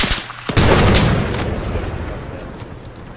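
A frag grenade detonates in ArmA 3 with a loud, close boom that cuts in sharply and then rolls off into a long, fading rumble, with no voices over it.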